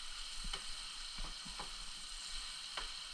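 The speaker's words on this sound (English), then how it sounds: "looks like the garlic is just frying up quicker and hotter than what I wanted to cook up" Garlic frying hot in a pan makes a faint, steady sizzle with a few soft scraping stirs, no talking.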